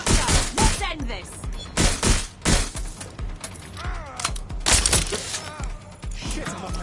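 Heavy shotgun blasts and other gunfire in Watch Dogs Legion ring out loud and close in irregular bursts, mixed with shattering impacts and game voices across the whole span.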